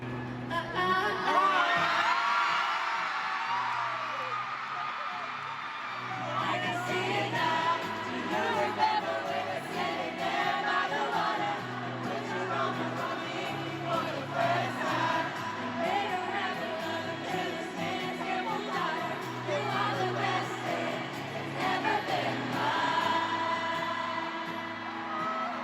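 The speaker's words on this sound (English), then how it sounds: "the crowd just went crazy when she sang the first intro of mine" Concert crowd at a show in Singapore cheers and shouts during the surprise songs, a continuous distant roar of voices blended with amplified music throughout.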